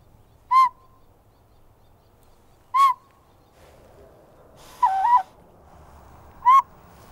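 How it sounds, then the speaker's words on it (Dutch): A little owl calls repeatedly outdoors, sharp rising whistled hoots spaced a couple of seconds apart, with one wavering call among them, over faint background hum. "het kan zijn dat door dat alarmroepje het uiltje al meteen uit de kast komt"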